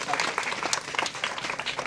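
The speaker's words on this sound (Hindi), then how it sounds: "जोरदार ताली से स्वागत कीजिए, आप लोग ताली बजाइए।" Audience applause at a school prize distribution for a BSEB pre-test, a steady patter of many hands clapping with scattered sharper claps, fairly close, while a voice speaks over it.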